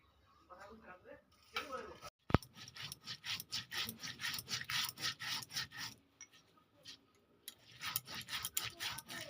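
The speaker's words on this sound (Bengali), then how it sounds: "তার সাথে বেটে নেব আতপ চাল।" Soaked atap rice is ground on a traditional grinding stone, a close, rhythmic series of rough scraping strokes repeating steadily, with a sharp knock early on.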